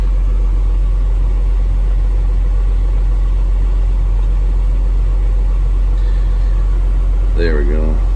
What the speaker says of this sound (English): we're gonna wait for the engine to warm up.